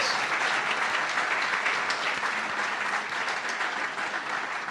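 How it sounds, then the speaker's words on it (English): An audience at a student news awards ceremony applauding sponsors, a continuous even wash of clapping from a sizable crowd, moderately distant and sustained throughout. "Please, let's have a round of applause for our generous sponsors."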